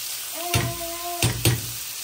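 Peas and maize are stirred in a frying pan over a steady sizzle, with three sharp utensil knocks against the pan and a brief tonal ring.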